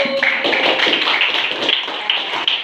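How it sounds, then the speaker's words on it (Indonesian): Students in a classroom give a group a round of applause, a dense, fairly loud patter of many hands clapping steadily for a few seconds with no talk over it. "Kita berikan aplaus untuk kelompok 1."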